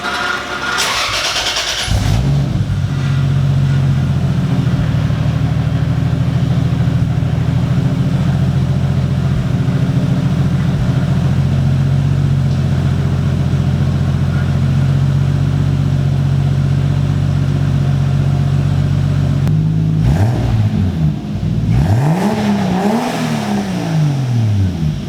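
Toyota 2JZ engine with a custom exhaust cranks and fires up, then holds a loud, deep, steady idle for a long stretch before sharp revs rise and fall near the end.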